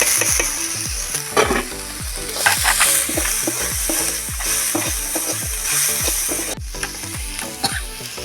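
Chopped banana flower frying in a pan with turmeric powder, a steady close sizzle broken by repeated scraping and stirring strokes, with no talking.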